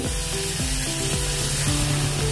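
Water poured into a pan of tomato curry sets off a loud, steady sizzle with bubbling and stirring scrapes, heard up close with no talking.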